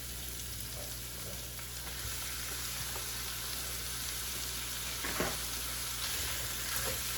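Ground beef fries in a pan with onions over a medium flame, giving a steady, close sizzle with faint stirring sounds and no talking.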